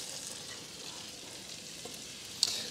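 Onions fry in melted butter in a large soup pot or Dutch oven over medium-low heat, giving a steady, close, even sizzle throughout, with a brief sharp clink near the end.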